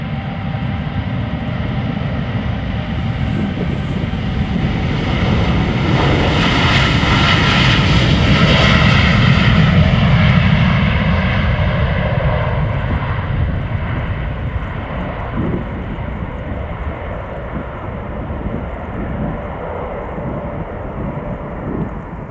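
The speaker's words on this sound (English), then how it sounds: "This is a Blue Delta 787-10" A Delta Boeing 787-10 departs Amsterdam Schiphol bound for Calgary, its loud, close jet roar swelling to a broad peak and then slowly fading into a steady rumble, with no voices.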